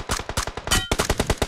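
Rapid automatic gunfire in the mobile shooter BGMI, a close, loud burst of a dozen or so evenly spaced shots with a brief ringing shot in the middle, no talking.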